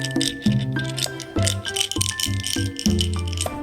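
A toy go-kart with a capybara toy inside is shaken as a rattle, giving loud, rhythmic clattering bursts that repeat several times in quick succession, with no talking.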